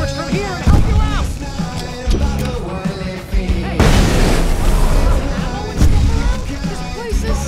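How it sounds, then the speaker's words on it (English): Fireworks bursting at Anderson Farm in the video game Alan Wake, a string of loud booms and crackling pops layered with game music, with a character shouting over the blasts. "I can set off more of the fireworks from here and help you out!"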